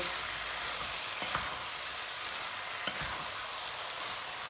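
Flour toasting in a hot pan on a lowered stove burner gives a steady, soft sizzle and fry, with a few faint scrapes of stirring now and then and no voices.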